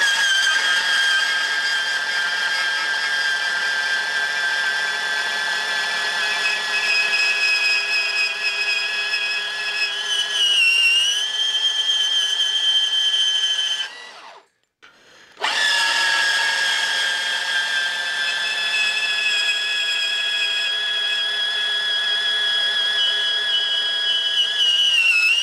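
Portable bandsaw with a standard 18 TPI blade cutting 40 by 40 by 2.5 wall steel box section, a steady high whining, shrieking tone that briefly cuts out and then resumes, with no voices.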